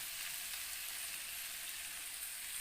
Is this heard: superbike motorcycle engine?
no